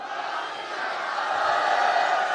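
At an outdoor live concert in Goniana, a large crowd roars back a loud collective shout in answer to the Sikh jaikara. The dense wall of voices swells slightly and holds steady.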